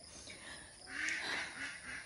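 A duck quacks a few times in quick succession, moderately near and fairly faint, against a quiet outdoor background.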